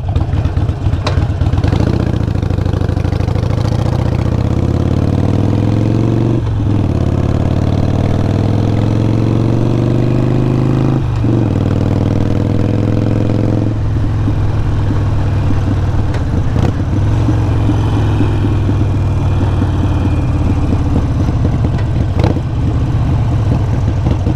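A motorcycle engine running close and loud, idling and then blipped several times, with the pitch rising and falling across each rev and settling back to a steady idle.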